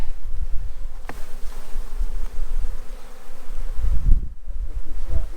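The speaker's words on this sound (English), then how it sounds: "I'm going to go ahead and shake these bees off" Honey bees buzz in a steady, close drone as they are shaken off a hive frame during an inspection, with a few brief thumps and bumps of handling.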